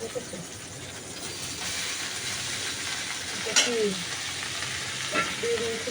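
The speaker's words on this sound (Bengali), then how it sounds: "লঙ্কাটা ভাজা ভাজা হয়ে গেছে এবার আমি পাস্তাটা দিয়ে দেবো" Chilli and pasta frying in a pan make a continuous close sizzle and hiss, with a couple of brief scrapes or clinks near the end and faint background voices.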